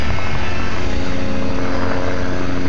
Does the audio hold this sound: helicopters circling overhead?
yes